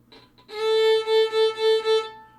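A bowed violin plays a steady repeated note in a pulsing shuffle pattern, five swells in quick succession, clear and close with no talking.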